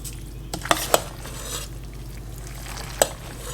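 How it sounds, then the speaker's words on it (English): A spoon stirring pasta with tomato sauce seasoned with black pepper, sea salt, garlic powder and red pepper in a pan, giving soft scraping and a few sharp clicks of utensil on metal over a faint sizzle. "We'll give this another mix."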